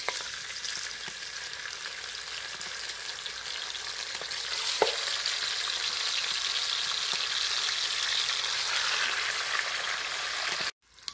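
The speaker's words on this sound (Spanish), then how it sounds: "ya terminamos de freír todos los bisteces. Vamos a retirarlos de aquí del aceite." Pork steaks fry in oil with a dense, continuous loud sizzle and crackle, a few sharp pops rising out of it, before the sound cuts off abruptly near the end.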